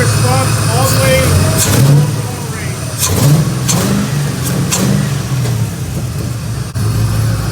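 An LS-swapped FRS engine revs hard several times in short throttle blips, loud and close, with someone talking between the revs.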